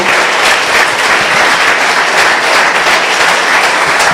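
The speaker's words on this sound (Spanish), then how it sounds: "¿Le podemos dar un aplauso al Señor?" A church congregation at an evangelization presentation in Mexico applauds, giving praise to the Lord; dense, loud, continuous clapping from many hands throughout, with no voices standing out.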